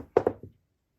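Dice tumbling onto a craps table at a casino game: two sharp knocks close together, then a softer third tap as they settle, brief and near with no talk.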